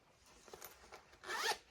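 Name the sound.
zipper on a project bag pocket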